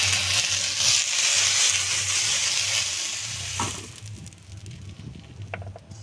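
Mustard oil sizzles steadily with bay leaves, whole cumin and chopped onion frying in it, a loud continuous crackle that eases off partway through, with a few light clinks near the end.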